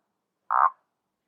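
A single short comedic frog croak, a brief mid-pitched burst lasting about a quarter second, alone against silence, for a frog wearing makeup.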